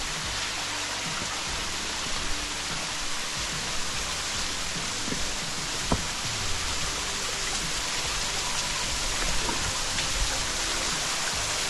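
A waterfall and rocky stream on the Warrie Circuit pour in a steady, close, hissing rush, continuous and unbroken, with no voices over it.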